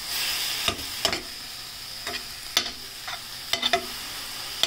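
Pork belly frying in a pan with no added oil is stirred with a utensil, giving irregular scraping clacks over a steady soft sizzle.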